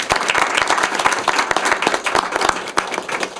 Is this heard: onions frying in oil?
no